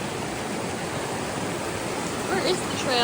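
Water rushes steadily in a broad hiss, like a fast stream close by, flowing along a trail near Forester Pass on the Pacific Crest Trail, with a faint voice briefly breaking through near the end.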